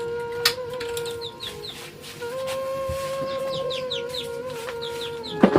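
Hens and chicks cluck and peep nearby in a rural yard, with repeated short high chirps over a steady low hum and a few sharp knocks.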